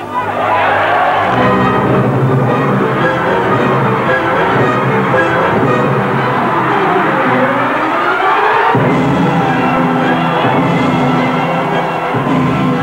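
Dense, sustained roar of a football stadium crowd at a 1995 Faroe Islands versus Russia match, a loud continuous swell of massed voices that surges again near the end.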